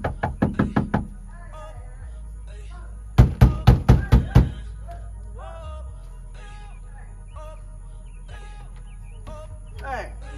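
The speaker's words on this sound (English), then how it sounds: "knocking at my door like the police" Someone knocks at a door, a quick burst of about six loud, close raps, then after a pause another series of six, with birds chirping and faint voices in the background.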